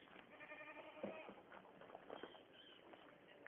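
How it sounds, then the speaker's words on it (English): A sheep bleats a few times in the background, faint and a little distant, mixed with a steady hum of outdoor noise and some voices. "you're hearing the sheep in the background"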